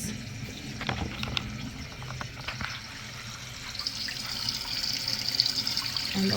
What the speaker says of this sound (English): And the water is filling up.